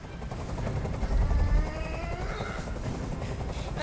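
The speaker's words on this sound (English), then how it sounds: "I can't stand that noise anymore! Tell that helicopter to get out of here!" Helicopter in the video game Detroit: Become Human, a loud, close, continuous rotor thump with a low, steady chop and engine whine throughout.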